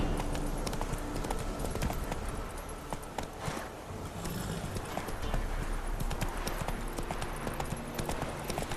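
A horse's hooves clip-clop in a steady trotting rhythm across a Witcher 3 game landscape, fairly close, over a soft ambient music and wind bed with no speech.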